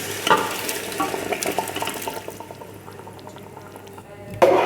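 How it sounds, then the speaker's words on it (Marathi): Cooked mutton tumbles into a pan of fried masala, with sizzling, wet stirring and scraping close by, fading to a quieter simmer before a sharp clatter at the end. "आता आपण यामध्ये शिजवलेलं मटण टाकून घेऊ शिजवलेलं मटण टाकून घ्या"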